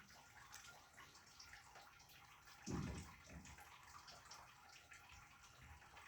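Pot of water with omena, small Kenyan fish, boiling over a village cooking fire, giving a steady close bubbling hiss with one louder surging burst partway through; no voices.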